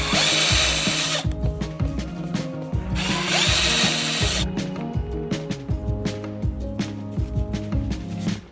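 Two bursts of a cordless power drill or impact driver whirring loose screws from the front fender liner of a BMW E60 M5, close and loud, followed by softer tool clicks and handling noises with no talking.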